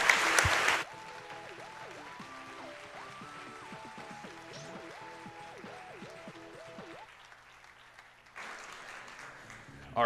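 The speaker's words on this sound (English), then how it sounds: "One more round of applause for Geoff." A short burst of crowd applause at Summer Games Done Quick 2015 opens, giving way to bright electronic Super Monkey Ball Deluxe tones, then clapping swells again near the end.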